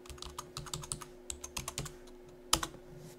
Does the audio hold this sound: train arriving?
no